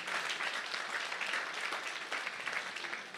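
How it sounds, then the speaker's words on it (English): A crowd at a Big Brothers Big Sisters of Northern Sierra charity auction gives sustained applause, a dense, even wash of clapping that is moderately distant and continues unbroken throughout. "a huge round of applause"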